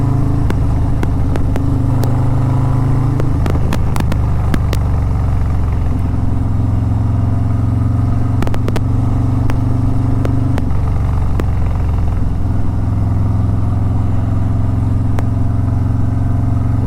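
Harley-Davidson Road Glide with a 2-into-1 long exhaust pipe, riding along with a steady, loud low rumble that rises and falls with gear changes, plus wind noise throughout.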